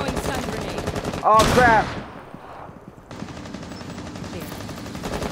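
Gunfire in the video game Rainbow Six Siege: continuous rapid automatic shooting that breaks off for a moment while a voice exclaims, then resumes loud and rattling to the end.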